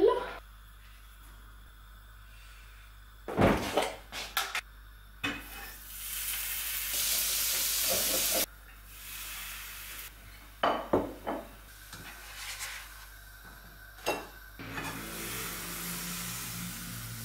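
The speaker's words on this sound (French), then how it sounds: "Et là je vais essayer de me faire vite fait des crêpes" Crêpes sizzle in a frying pan, a steady hiss broken by sharp utensil scrapes and clanks against the pan, with a few loud knocks and quieter stretches between.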